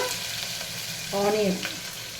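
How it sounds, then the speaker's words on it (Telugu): Green chilies and ginger-garlic paste sizzle in hot oil in a pan for a kala chana curry, with a steady close frying hiss and light stirring scrapes, no talking. "పచ్చిమిర్చి వేగుతున్నప్పుడే కొంచెం అల్లం వెల్లుల్లి పేస్ట్ అండి వేసి బాగా కలుపుకోవాలి"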